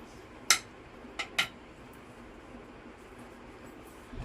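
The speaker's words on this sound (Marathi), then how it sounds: "हे बघा, या अशा एकदम बारीक मिरच्या चिरून घ्यायच्या आहेत" A knife cuts green chilies on a board for methi bhaji, giving three sharp, close taps, two of them in quick succession, over a quiet, hissy background.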